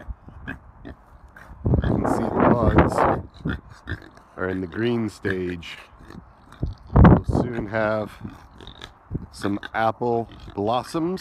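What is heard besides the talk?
pigs oinking in an orchard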